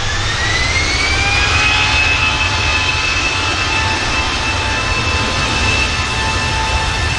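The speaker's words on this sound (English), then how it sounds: "Here goes the EasyJet." An EasyJet jet airliner at Manchester Airport gives off a steady, loud engine roar with a high whine that holds constant and slowly shifts pitch, heard alone.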